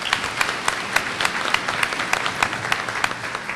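An audience at a peanut festival queen's luncheon and fashion show claps warmly, a dense round of applause from many hands, loud and steady without voices.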